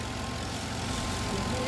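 A homemade D8 engine runs with a steady, dense rumbling drone, smooth and even, close by with no break.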